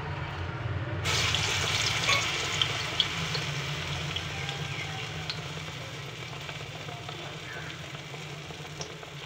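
Ginger vada batter drops into hot oil and a bright, loud sizzle bursts in about a second into the clip, then settles into a softer continuous hiss and bubbling.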